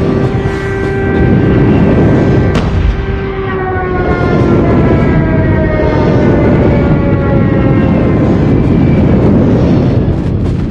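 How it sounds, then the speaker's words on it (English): Friendly airstrike jets in a Call of Duty night team deathmatch on the Summit map roar steadily overhead, a loud sustained rumble with descending whining tones as the aircraft pass and fade, broad blast-like noise underneath. "Friendly airstrike incoming."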